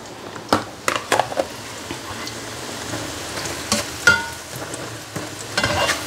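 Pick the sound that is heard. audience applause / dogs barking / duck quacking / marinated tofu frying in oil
marinated tofu frying in oil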